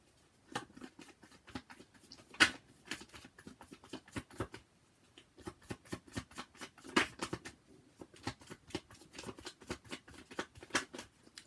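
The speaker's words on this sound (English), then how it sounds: "I'm trying to shuffle for a bit longer." Tarot cards being shuffled by hand, a soft papery riffling that comes in quiet uneven bursts with small sharper flicks, close and faint, with no voices.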